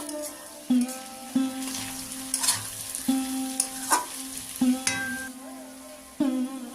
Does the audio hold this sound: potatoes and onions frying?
yes